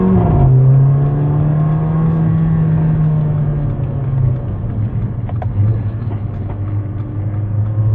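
Mercedes-Benz A45 AMG, Petronas Green Edition, driving with a loud close engine drone that holds a steady pitch, then drops back as the car settles into a lower rumble, with faint pops.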